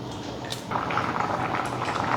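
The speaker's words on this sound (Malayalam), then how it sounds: "ശർക്കരയൊക്കെ ഇട്ടത് ഒന്ന് തിളച്ചു" A thick jaggery mixture for papaya pachadi bubbles and boils steadily in a pot close by, after a brief clink at the start.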